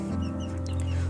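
Aseel chicks cluck and chirp steadily, with a continuous low hum running underneath the birds throughout.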